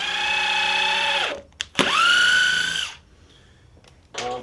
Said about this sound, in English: So with the eccentric chuck, you can easily drive a screw.